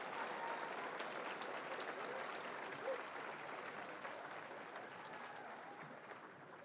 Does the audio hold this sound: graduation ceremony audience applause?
yes